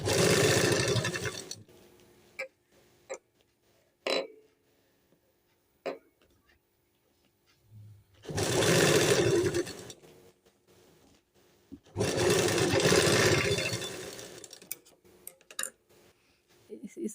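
A domestic sewing machine runs in bursts while stitching a lined kurti, several loud whirring runs of a few seconds each, separated by quiet gaps with small clicks and handling sounds.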